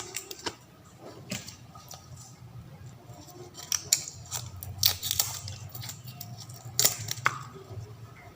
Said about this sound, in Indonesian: selanjutnya bawang putih akan saya kupas juga 2 siung